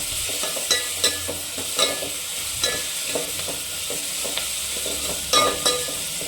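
Turmeric being stirred into a frying pan of sizzling food, a continuous soft sizzle with sharp spoon scrapes and taps at irregular intervals, close up and without talk.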